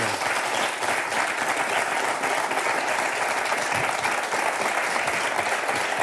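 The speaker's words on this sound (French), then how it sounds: "Je vous applaudis." Steady, dense applause from a television studio audience on a French literary talk show, loud and continuous throughout with no speech over it.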